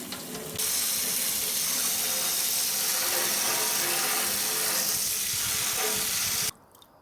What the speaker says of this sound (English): Just by rinsing it down with water.